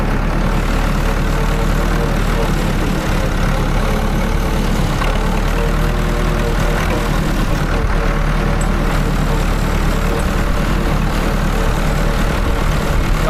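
A farm tractor engine runs steadily on a snowy farm, a loud, constant low rumble that holds unbroken from start to finish with no talk over it.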